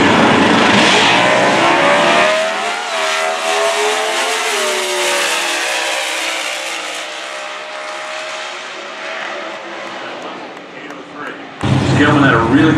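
A COPO drag race car accelerates hard at the NHRA US Nationals, a loud engine roar sweeping past and fading down the strip before another burst of noise cuts in, with an announcer talking over it.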